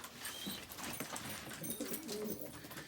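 Tumbler pigeons coo softly in a coop at night, low throaty calls repeating faintly through steady background noise, with no talking.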